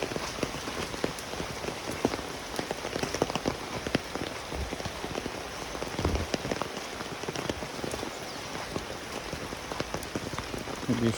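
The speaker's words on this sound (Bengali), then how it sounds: "বৃষ্টি পড়তেছে।" Rain falls steadily on a road where water has pooled, making a dense, continuous patter of drops with sharper close splashes scattered through it and no voices.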